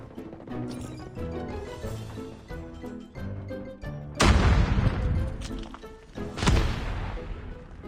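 Bursts of Call of Duty Mobile gunfire crack out over background music, two sharp loud volleys standing out near the end.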